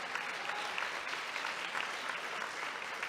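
Sustained audience applause fills the room at a lecture as a crowd claps in tribute to Ho Chi Minh, dense and even for the whole stretch with no voices on top.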